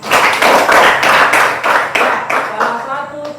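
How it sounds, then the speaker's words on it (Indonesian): A class of seventh-grade students claps hands together in loud, rhythmic unison bursts, each beat distinct and close, slowing and thinning out as a voice starts up at the end. "Berikan tepuk tangan."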